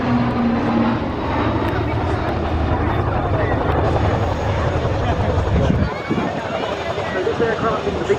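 Single-engine Raytheon-built turboprop Texan (2014) making a flypast at an RAF family day airshow, a loud steady engine roar sustained throughout with commentary talking over it, fading slightly near the end.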